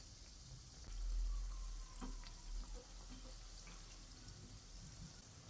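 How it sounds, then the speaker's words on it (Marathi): Balushahi dough balls deep frying in oil, a faint, soft, steady bubbling with a low rumble and a few light knocks. No one speaks. "राहिलेली बालूशाहीचे बॉल्स हे आपण डीप फ्राय करून घेऊया"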